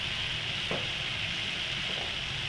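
Spices with a spoonful of turmeric frying for aloo dum, a dense continuous sizzle heard close with a couple of faint stirring scrapes.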